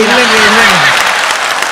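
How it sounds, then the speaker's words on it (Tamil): Audience applause on a Tamil matchmaking show taped in Connecticut, a dense, loud wash of clapping heard under a voice for under two seconds. "கரகோஷத்தை பார்த்தாலே தெரியலையா"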